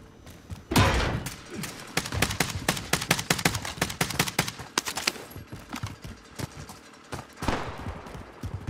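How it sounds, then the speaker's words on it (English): Rapid bursts of gunfire in a military shooter video game, sharp repeated shots in quick volleys, near and loud, with some quieter spells between. "Where are they shooting at us from?"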